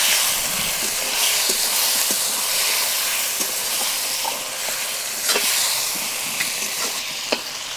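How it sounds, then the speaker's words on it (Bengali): Chicken pieces hiss and sizzle steadily in a hot pan while being stirred, with occasional scraping clicks from the spoon against the metal throughout. "চিকেনটা ভালোভাবে নেড়ে চেড়ে নেব।"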